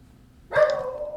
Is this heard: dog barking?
yes